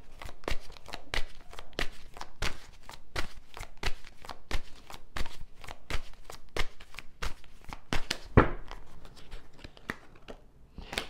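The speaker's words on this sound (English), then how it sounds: "I already shuffled the cards." Rapid rhythmic riffling of tarot cards being shuffled, a steady series of crisp flutters and slaps, close up with no talking.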